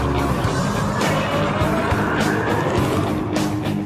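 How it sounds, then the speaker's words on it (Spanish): A car engine, just started to warm up, runs loud and rough with a dense, continuous roar and some surging bursts. It is heard close up with no clear speech. "Acabamos de prender el carro para calentarlo. Suena bien, se oye bien."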